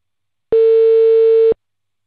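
A single steady telephone ringback tone while a call is placed, one loud, clean, sustained beep of about a second, isolated between moments of silence.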